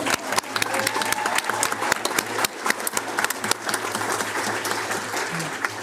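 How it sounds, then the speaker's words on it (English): Audience applause during a board of education work session, loud and close, many hands clapping in a sustained, dense burst with sharp individual claps standing out, continuing strongly throughout with a faint low hum beneath. "Mr. Jean-Philippe's bio got a round of applause."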